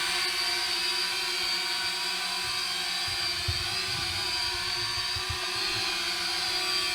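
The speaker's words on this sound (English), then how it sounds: "both joysticks down here into the middle will unlock your drone so you're ready for flight" A Holy Stone HS430 toy drone hovers nearby with a steady, high-pitched whirring buzz of small propellers, constant and unbroken for the whole stretch with no voices.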